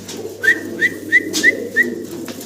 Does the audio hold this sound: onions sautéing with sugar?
no